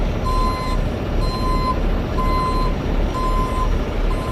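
A moving truck reverses with a steady series of evenly spaced, loud beeps repeating over a constant low engine rumble, with no talking.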